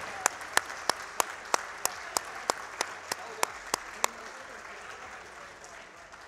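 Audience applause at a speedrunning charity marathon event: a dozen sharp, evenly spaced claps ring out in a steady rhythm over a soft crowd murmur, then stop, leaving quiet room noise.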